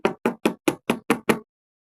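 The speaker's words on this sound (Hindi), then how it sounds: "जब वो चिड़िया के घर पहुंच जाते हैं तो चील उनका दरवाजा खटखटाता है" A kite knocks on a bird's door in a cartoon, seven sharp evenly spaced raps close up, then silence.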